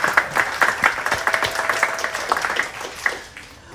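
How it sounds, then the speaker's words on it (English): A large audience gives sustained applause for the panelists at a Disney Wish entertainment panel. The clapping is dense and steady, then thins out and fades near the end. "How about a big round of applause for all of our panelists today?"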